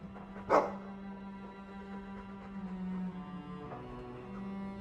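In the fantasy video game Dragon Age 2, a dog gives one sharp, loud bark, followed by a steady low hum of background ambience.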